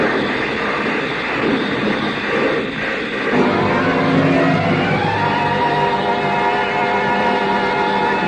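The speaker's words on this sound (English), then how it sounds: "The car skidded on gravel and slid sideways toward the cliff" A convertible car skids on gravel in a radio drama, a loud sustained rumbling slide with a brief scraping burst early on, then a steady grinding roar carrying through to the end.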